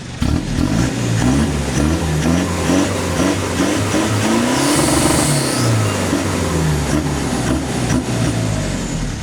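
A nearby car engine held at high revs against the rev limiter, its drone pulsing and stuttering in repeated rapid cuts, with no one talking.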